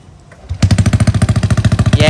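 A Honda Wave 110i LED motorcycle fitted with a new aftermarket exhaust pipe revs loudly and close up, a quiet idle breaking into a rapid, throbbing staccato of exhaust pulses that continues steadily to the end.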